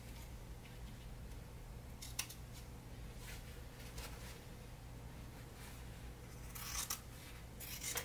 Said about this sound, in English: I'm just going to get started cutting and cut a line right down the middle